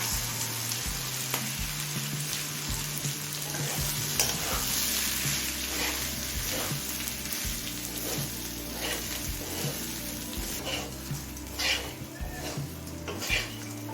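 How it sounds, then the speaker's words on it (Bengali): Rice being fried and stirred in a pot on a low flame while making peas pulao. A soft, steady sizzle continues throughout, with repeated scraping and clinking of a utensil against the pot. "এবার লো ফ্লেমে চালটা কিছুক্ষণ ভেজে নেব"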